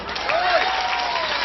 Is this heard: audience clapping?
yes